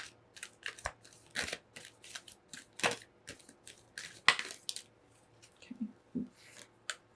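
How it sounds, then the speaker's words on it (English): Tarot cards being shuffled by hand, a string of crisp papery riffles and taps in uneven bursts, close and quiet with gaps between. "We're going to give it one more shuffle."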